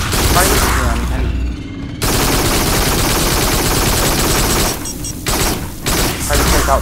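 Dense, continuous automatic gunfire roars through the Farpoint video game in loud, rapid bursts, with short gaps between volleys.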